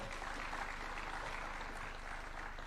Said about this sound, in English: Another round of applause for the Chancellor